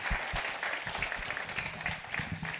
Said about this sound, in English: So let's give them a nice big round of applause as well.